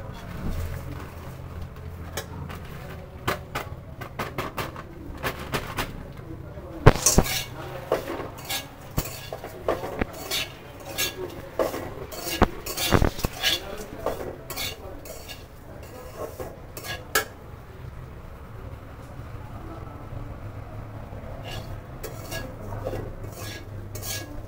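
Lachcha vermicelli frying in ghee in a pan, stirred with a metal utensil that clinks and scrapes against the pan in irregular bursts over a low background hum, louder in the middle stretch.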